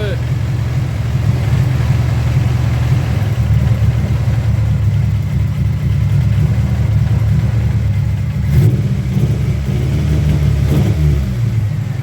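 An Acura Integra engine running rough and lean with a bad distributor cap, a loud steady low rumble throughout with uneven surges as it revs, heard close up with no talk.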